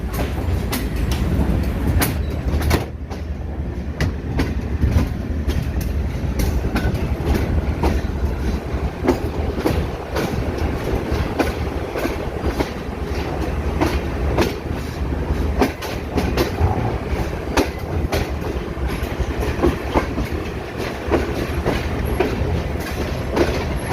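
The Karakoram Express train rolls along the tracks near a station in Pakistan with steady rumbling and irregular clicking clacks from the wheels, continuous and fairly close.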